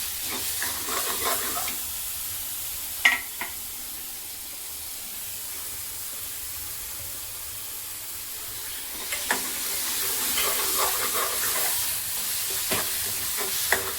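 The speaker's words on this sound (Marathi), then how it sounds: "त्याच्यातच आपल्याला ही लसूण आणि कोथिंबीर आणि आल्याची पेस्ट पण घालून घ्यायची। हे मिश्रण छानसं भाजून घ्यायचं आहे।" Garlic, coriander and ginger paste roasting in a pan, a steady soft sizzle and hiss with occasional stirring clicks and scrapes, fairly quiet and close, with no voices.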